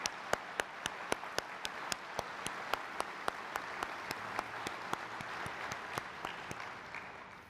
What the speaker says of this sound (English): Please join me in a round of applause for the American Legion Post 377th Band.